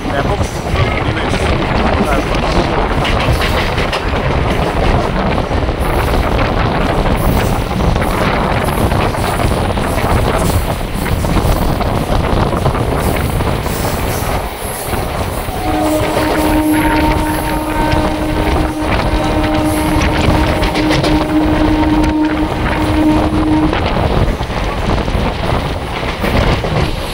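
A fast passenger train bound for Digha runs at high speed, a continuous loud rumble and rushing wind roar that holds steady throughout, with a long sustained horn-like tone partway through.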